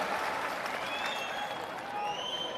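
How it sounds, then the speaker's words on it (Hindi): A seated audience at a satsang gathering in Bihar gives steady, sustained applause welcoming guests, a dense wash of clapping from a large crowd throughout. "एक बार जोरदार तालियों के साथ आप सभी हमारे सत्संग में स्वागत करें"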